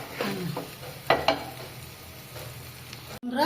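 Rice is dry-fried in a pan at close range. It makes a soft, continuous sizzle broken by a few sharp scraping stirs, and the background is quiet.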